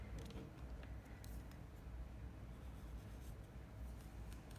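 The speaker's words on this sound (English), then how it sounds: "And kind of draw the best circle I can." A pen drawing a circle on paper, traced around a glass container, gives faint, close scratching and scraping strokes over low background noise, with no talk.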